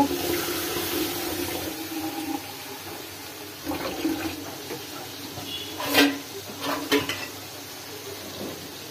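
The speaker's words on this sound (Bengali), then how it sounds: "একটু পানি দিব" Water poured into a pan of curry with taro and masala, a rushing splash and gurgle near at hand, followed by a few clattering pan knocks, with no speech.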